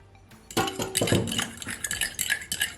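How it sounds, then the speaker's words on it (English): A spoon stirs whole milk into a mixture in a bowl for fried pork chop batter, with scraping, clinking strokes that start after a brief quiet and run steadily and close by. "I'm just gonna mix it all in."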